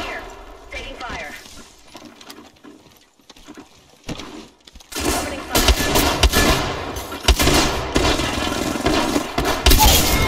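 Gunfire in a battle royale shooter video game, rapid bursts and impacts growing loud and dense in the second half after a quieter stretch, with a player talking under parts of it.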